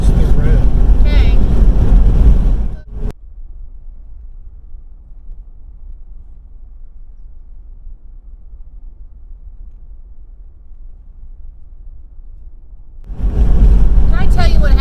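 Steady low road rumble from a car driving along, heard alone inside the vehicle for about ten seconds, with people talking just before and after.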